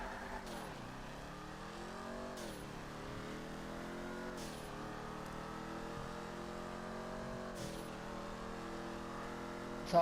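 The Bravado Gauntlet Hellfire muscle car in GTA V revs hard in repeated sweeps, its engine climbing and dropping through several gear-like cycles at a steady, loud level.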